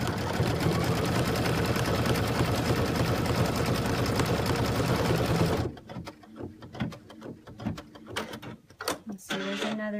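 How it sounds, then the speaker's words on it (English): A sewing machine stitches lines through three layers of fabric for chenille, a loud steady mechanical whir running for about six seconds, then stopping, followed by quieter handling clicks and rustles. "I'll continue so you can kind of see what it's going to look like"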